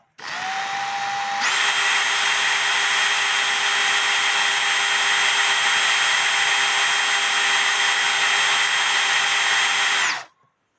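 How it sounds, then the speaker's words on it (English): Electric drill whines steadily as it spins a cuckoo clock escapement wheel pivot against an Arkansas stone, starting at a lower pitch, jumping higher after a second, then holding a loud even whir for about nine seconds before cutting off. "taking my Arkansas stone and turning the drill on"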